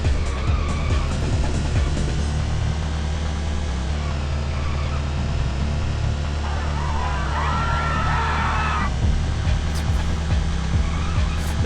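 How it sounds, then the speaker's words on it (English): Nintendo 64 racing game car engine droning steadily with tire skid and squeal noises as the car fishtails around, plus a brief burst of screeching midway. "The car's fishtailing everywhere."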